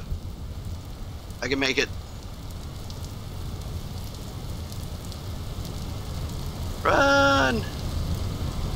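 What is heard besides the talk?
rain in the video game Vintage Story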